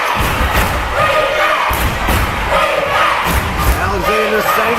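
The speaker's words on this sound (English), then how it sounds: "Listen to this crowd." A packed gym crowd at a high school basketball game between the Caruthersville Tigers and South Pemiscot Bulldogs roars and cheers continuously, with shouts and thumping feet, loud and close throughout.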